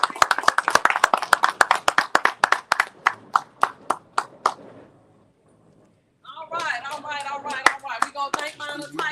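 A crowd at an Alabama high school basketball media day claps at a steady, rapid rhythm for about four seconds, fading into a short silence before voices start talking.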